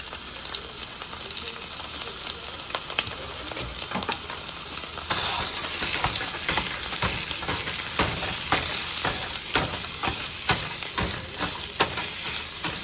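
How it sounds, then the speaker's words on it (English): Loud sizzling of chorizo in a frying pan with frequent crackles and scraping stirs, steady hiss throughout, nearby and uninterrupted by voices. "I'm just going to go ahead and get it in this frying pan and start cooking"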